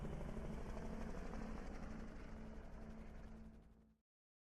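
A helicopter lifts off in GTA Online on PS4, its dense rotor and engine roar loud and continuous before cutting off abruptly near the end.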